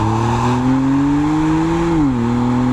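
A 410 hp car revving hard on a racetrack, a loud close engine note climbing steadily in pitch and then dropping sharply near the end as it shifts.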